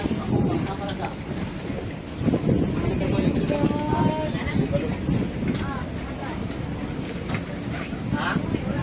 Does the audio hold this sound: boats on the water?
yes